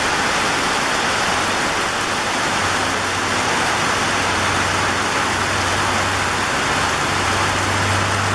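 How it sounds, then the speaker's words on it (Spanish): Steady heavy rain pouring down in a jungle where workers haul timber, a dense unbroken hiss with a faint low engine-like hum underneath. "incluso trabajan bajo lluvia"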